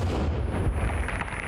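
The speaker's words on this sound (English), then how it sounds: "We use another grenade." A grenade explosion in the survival game Sons Of The Forest, heard as a dense, continuous roar of rumbling blast noise that stays loud from start to finish with no quiet gaps.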